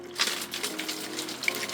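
Fresh rainwater pours from a container onto soil in a large pot holding a capsicum plant, making a soft, steady splashing gush over nearly two seconds.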